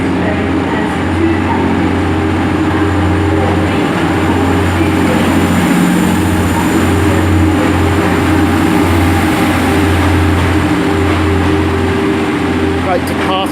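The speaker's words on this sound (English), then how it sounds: "departing there is 185 142, and that's heading on a service to Manchester Airport from Middlesbrough" A Class 185 diesel multiple unit pulls out of Huddersfield station, its engines giving a loud, steady low drone with a constant hum that holds throughout.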